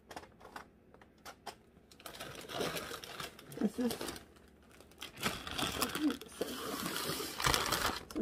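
Parchment paper crinkling and rustling as it is handled while laying out dehydrated rose hips, sharp papery crackles in bursts, close and fairly loud, with someone speaking between the rustles.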